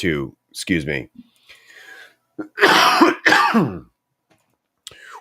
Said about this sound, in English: he just did his cough and he muted his mic